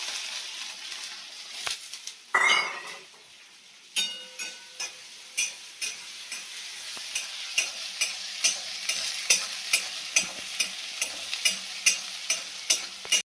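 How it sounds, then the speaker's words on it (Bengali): Onions fry in spiced oil in a pan. A soft sizzle runs throughout, and from a few seconds in a utensil scrapes and stirs them in regular, close, fairly loud strokes roughly every half second. "পেঁয়াজটা মোটামুটি আমার ভাজা হয়ে গেছে"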